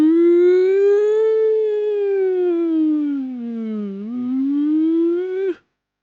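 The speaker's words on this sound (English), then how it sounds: "The sirens are super loud right now." Loud, steady civil defense warning siren wailing alone for about five and a half seconds, its pitch sliding gently down and back up before cutting off abruptly.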